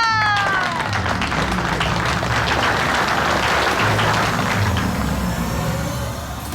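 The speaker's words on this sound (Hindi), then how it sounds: "तालियां!" Steady applause from a crowd fills the whole stretch, with a brief high electronic tone at the start and faint voices mixed in.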